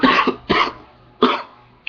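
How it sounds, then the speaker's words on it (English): Three harsh coughs in quick succession, close to the mic, with short pauses between, no talking. "I have a little bit of a cough."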